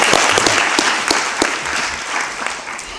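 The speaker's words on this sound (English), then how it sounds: "giving you another round of applause for that" Loud audience applause at an International Youth Day 2019 event on sustainable cities, a dense roar of clapping with a few sharp individual claps standing out, continuing for about three seconds.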